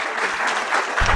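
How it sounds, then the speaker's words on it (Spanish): Steady audience applause at an art talk about the painter Rodolfo Morales, a dense continuous patter of many hands, moderately loud throughout. "démosle otro aplauso"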